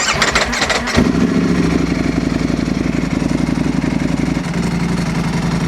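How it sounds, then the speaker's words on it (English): A Ducati motorcycle engine cranks and fires up, settling into a loud, rough, pulsing idle close by. "Let's start her up."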